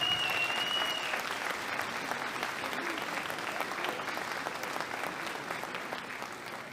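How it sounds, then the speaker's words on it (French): An audience applauds the mayor at a Une rose un espoir 2025 gathering in the Woustwiller sector, a dense, sustained wash of clapping that slowly fades. "je crois qu'on peut l'applaudir très fort"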